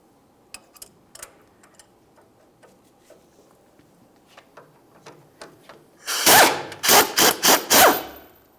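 A 15mm wrench works the lower nut of a sway bar link on a 1999-2006 Chevrolet Silverado, with scattered small metallic clicks of the ratchet followed by a burst of five loud, rapid rattling bursts near the end.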